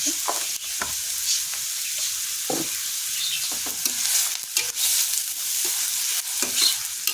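Onion frying in a little oil in a pan, with steady sizzle and repeated scraping stirs across the whole stretch, close and fairly loud, no talking.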